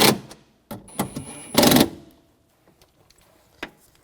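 A ratchet tightening bolts on a 2009-2013 BMW 328i xDrive rear window regulator, heard as a few quick bursts of rapid clicking close to the microphone, followed by a faint tap and near quiet.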